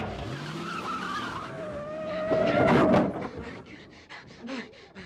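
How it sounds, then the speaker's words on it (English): A car reversing fast over a two-foot concrete abutment, revving hard with squealing tires, rising to a loud rough burst of engine and tire noise, then trailing off with scattered knocks. "You just backed over a 2-foot concrete abutment"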